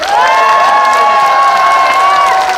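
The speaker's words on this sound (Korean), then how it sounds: "다시 한번 우리나라에게 힘찬 박수 한번 부탁드립니다" A crowd at a Sewol ferry disaster memorial rally cheers and applauds loudly and continuously for a performer, with a long, steady tonal cry held above the clapping.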